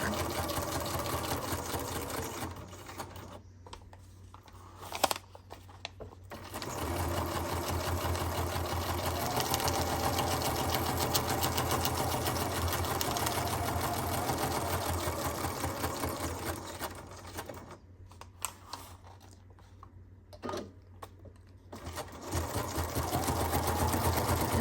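Sewing machine stitching a zigzag line around the edge of a paper envelope, running in long steady buzzing bursts separated by short pauses, close and clear with no talk.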